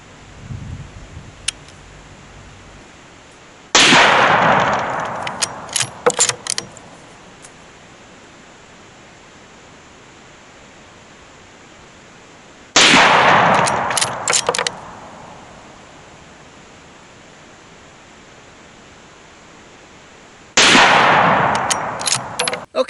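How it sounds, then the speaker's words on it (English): Three loud rifle shots fired with hand loads of Reloader 15 powder at a 100-yard range, spaced several seconds apart, each a sharp crack with a long ringing decay and clatter afterward. "Okay, that was three shots with my hand loads."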